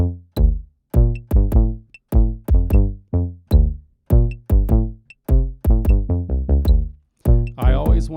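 A punchy kick drum pattern follows a bass line rhythm, with repeated booming hits and pitched low tones in an uneven syncopated groove, loud and up front with no talking.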